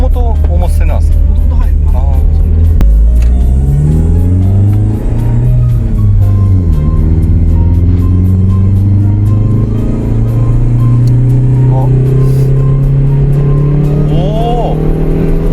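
Toyota MR2 with a supercharged 4A-G engine running and revving from inside the car, a loud steady drone that rises in pitch as it accelerates, with brief gear-change dips and people talking over it.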